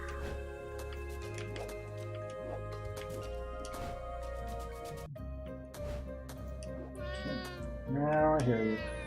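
Cat meows from the video game Catmaze, a few short tonal calls near the end rising over steady game music and ambient tones, with a voice talking at times.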